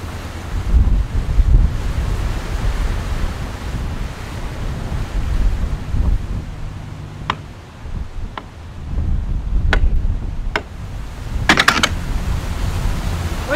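Strong gusting wind buffets the microphone while waves slap and surge against a narrowboat on the River Kennet, a steady loud roar with a few sharp knocks and clicks from the boat.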